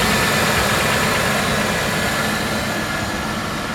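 A car engine idles steadily with the air conditioning running, giving an even, continuous hum and whir up close, with no talking.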